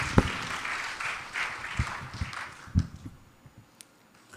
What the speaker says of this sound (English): Let's give both Ravina and her dad a lusty round of applause.